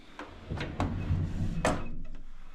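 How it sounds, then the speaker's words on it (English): A hotel room's sliding wardrobe door is rolled open and shut, giving a few sharp knocks and a rumbling glide, close by and moderately loud, with no talking. "And it's a sliding door. Do you know what? Let's have a sliding door moment."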